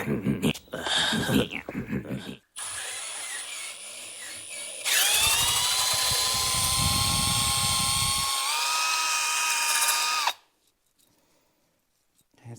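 A brake cylinder hone spun by a drill inside a 1973 Ford Maverick brake cylinder: a high whine starts, then a loud rising scraping whir for several seconds before cutting off, with talk at the beginning.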